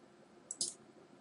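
Two quick left clicks of a computer mouse, close and crisp, a short pause between them over a quiet background with no talking.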